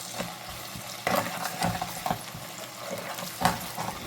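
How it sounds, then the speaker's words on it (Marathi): Masala paste for chicken kaju masala sizzles and fries with onions in a pan, soft steady frying under a few scraping stirs of the spoon, close and fairly quiet with no talking. "आता हे वाटण आपण यामध्ये घालूया। कांद्यासोबत आता आपण हे देखील परतून घेऊया।"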